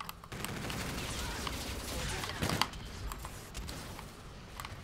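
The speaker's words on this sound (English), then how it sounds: "This gun feels like it shoots a lot slower than from the beta" Rapid gunfire from the N4 weapon in the Call of Duty: Infinite Warfare video game, a dense fusillade of shots running steadily through the clip with sharper bursts near the middle and game noise underneath.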